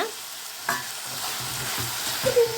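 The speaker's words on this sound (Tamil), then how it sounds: "உப்பு சேர்த்து நல்லா கிளறி விடுங்க" Tomato chutney with salt stirred in a frying pan, a steady close sizzle under scraping spoon strokes that come in a few uneven pulls, no voices.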